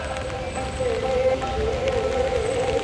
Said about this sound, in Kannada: ಮಳೆ ಬರ್ತಾ ಉಂಟು ಗೈಸ್.